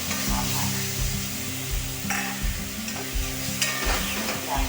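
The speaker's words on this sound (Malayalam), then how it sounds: "ക്രഷ് ചെയ്ത് വെച്ചിരിക്കുന്ന സവാള, ഇഞ്ചി, വെളുത്തുള്ളി ഇവ ചേർത്ത് നല്ലപോലെ മിക്സ് ചെയ്ത് കൊടുക്കുന്നത്." Crushed onion, ginger and garlic sizzle steadily while being stirred in a pan for kadai paneer, with a continuous frying hiss and a few soft scrapes of the spoon close by; no one speaks.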